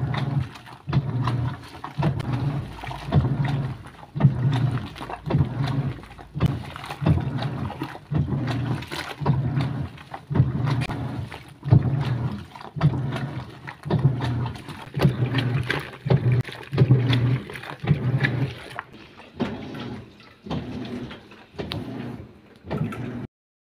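A washing machine rinses and drains, its water sloshing in a steady, repeating rhythmic churn of regular pulses that carries on for over twenty seconds, fairly close and without voices.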